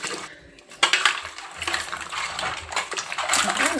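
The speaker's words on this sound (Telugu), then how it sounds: "ఇప్పుడు నీళ్ళు వేసుకొని కడుక్కుందాం." Mutton trotters for paya soup washed by hand in a vessel of water, close splashing, sloshing and occasional knocks against the pot, continuous and fairly loud with no talking.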